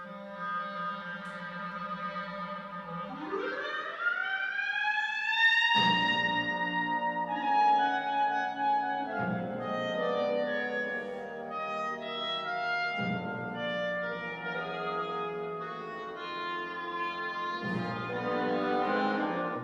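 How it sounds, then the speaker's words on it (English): A clarinet slides smoothly up between pitches in a long glissando, then continues a sustained melody with orchestral accompaniment. "you can hear the clarinet bending the pitches by sliding around a little bit in between the half steps"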